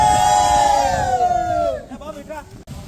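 Young sports players shout and cheer together as a close crowd, one long rising whoop over the din before it thins into scattered voices.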